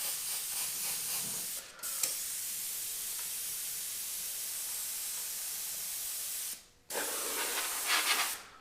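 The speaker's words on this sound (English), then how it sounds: "I would simply move the freehand shield up a little bit and then begin spraying" An airbrush sprays paint while fire flames are rendered freehand against a shield, giving a steady close hiss that stops briefly twice and then resumes.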